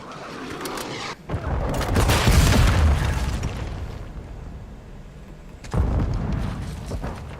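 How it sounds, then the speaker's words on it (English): Cruise missile strike in the video game Call of Duty: Modern Warfare II: a deep, rumbling blast swells and fades over a few seconds, followed by a second sharp boom, amid busy battle ambience. "Friendly cruise missile deployed."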